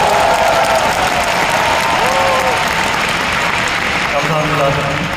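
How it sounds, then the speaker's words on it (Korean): A huge convention crowd of about thirteen thousand at an Amway spring convention applauding, a loud, dense, unbroken roar of clapping with a few voices rising through it. "여러분 박수 좀 보내주세요"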